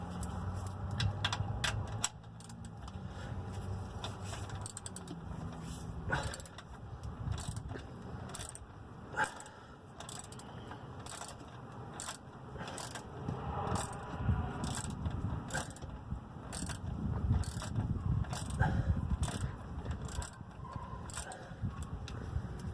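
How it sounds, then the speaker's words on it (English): A ratchet wrench works during an oil change on a 2006 Toyota Corolla, giving a long run of repeated metallic clicks with occasional scraping and clanking, moderately close and with no talk. "I can use a ratchet"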